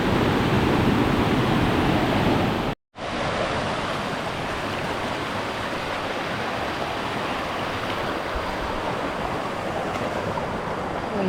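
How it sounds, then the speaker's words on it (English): A small waterfall in the Philippine countryside pours with a loud, constant rushing roar, close to the microphone and unbroken apart from a brief cut near the start. "Probably going to be too loud with the sound of the waterfall"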